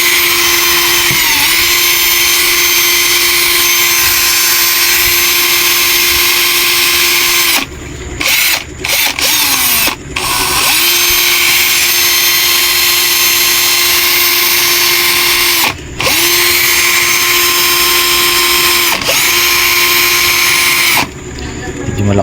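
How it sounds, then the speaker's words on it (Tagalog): A cordless drill running on a repaired battery, a loud, steady motor whine held for long stretches, broken by a few brief stops and restarts. "Malakas yung drill na to ah."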